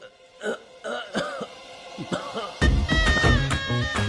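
A man coughs and clears his throat in a few rough bursts during a Telugu film scene, then louder, denser background sound takes over.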